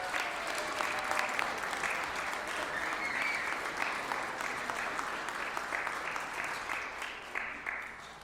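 Audience applause fills a hall at the Elizabethtown College baccalaureate ceremony, honoring students after their reflections and performances; the clapping stays broad and even throughout, then begins to thin near the end.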